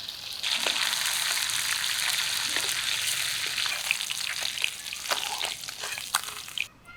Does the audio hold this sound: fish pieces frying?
yes